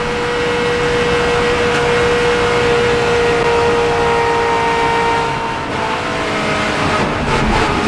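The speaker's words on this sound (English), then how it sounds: "Let's ride with Kevin Harvick and listen" Onboard NASCAR race car engine at Daytona, a loud sustained high-pitched roar held at steady speed, with a slight dip and change in tone near the end.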